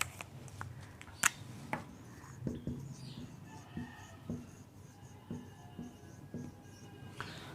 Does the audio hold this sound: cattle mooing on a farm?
no